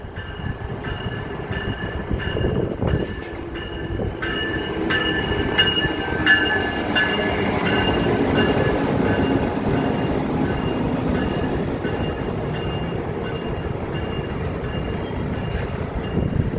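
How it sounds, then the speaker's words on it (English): An Amtrak Capitol Corridor 541 passenger train pulls into Coliseum Station in Oakland, California, with a steady loud rumble of wheels and cars rolling close by and faint high squeals above the roar throughout. "Here's Capitol Corridor 541, now approaching the station here."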